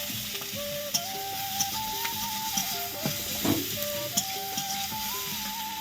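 Garlic, ginger, onion and green chili sizzle steadily in a pan, with occasional stirring scrapes and soft melodic music playing underneath.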